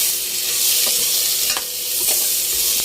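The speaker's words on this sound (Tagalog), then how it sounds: "Pagisa na yung ricados natin." Aromatics and sliced radish sauté in a hot pan for a Filipino tawilis sinigang, a loud steady sizzle with a few stirring scrapes and no talk.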